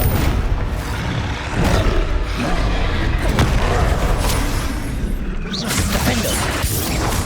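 A Confringo blasting spell explodes during spell-casting combat in the Hogwarts Legacy video game, giving loud, continuous booming and crashing impacts layered over one another, with a few sharper cracks standing out.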